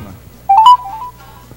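A mobile phone rings once with a short melodic tone that rises and then holds steady, moderately loud and close, over a quiet background with no talking.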